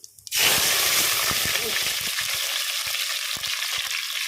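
Cumin seeds and onion with curry leaves frying in a pan, a loud steady sizzle that starts abruptly after a brief quiet moment and continues with small crackles and pops throughout.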